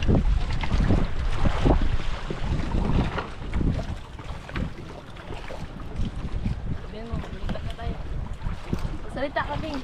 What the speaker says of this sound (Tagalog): Naglakas na yung hangin mga idol.